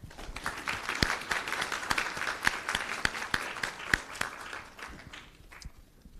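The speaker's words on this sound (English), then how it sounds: "A great applause to them." Audience applause closing a panel session at a conference on financing sustainable development in Asia-Pacific; steady, moderately faint clapping with a few sharper individual claps, thinning out toward the end.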